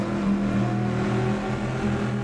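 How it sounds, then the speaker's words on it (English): Ferrari 333 SP race car engine in a sim racing game, a sustained close engine drone with strong low harmonics and slight pitch wobble, steady and loud without any voices. "Is that the Ferrari engine that I'm hearing?"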